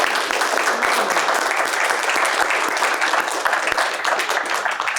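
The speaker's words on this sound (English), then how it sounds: "Let's give her an initial round of applause." Sustained applause from a lecture audience, steady dense clapping throughout with no talking.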